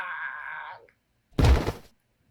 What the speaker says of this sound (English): I heard the loud thud of a body collapsing to the floor